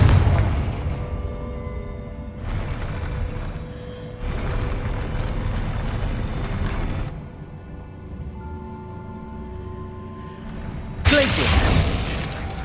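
Booming Confringo spell explosions in the Hogwarts Legacy video game come in several loud bursts among game effects, with a sharp crashing blast near the end and a voice speaking briefly between them.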